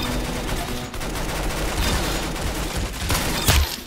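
Rapid bursts of gunfire in the Roblox game Arsenal rattle continuously and loudly for a few seconds, with sharp individual shots standing out near the end.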